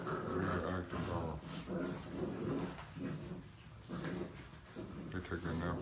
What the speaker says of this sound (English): Every dog in there can move and play.